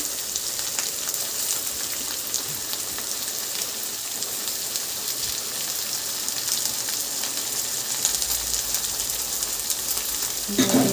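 Chillies and onions frying in hot oil for boti curry, giving a steady, close hiss and crackle like light rain that carries on throughout, with a brief stirring bump near the end.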